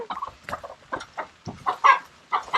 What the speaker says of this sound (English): Oh, we got more chickens.